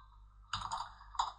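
Computer keyboard keys are tapped in two short bursts, close and fairly crisp, while a title is typed for a blog post on Blogspot, with a faint steady hum underneath.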